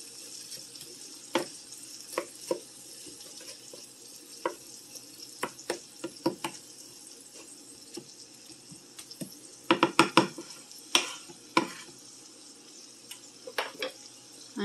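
Ground beef frying in extra virgin olive oil in a pan, being stirred: a steady sizzle with scattered scrapes and clacks of the utensil, busiest around the middle, no voices.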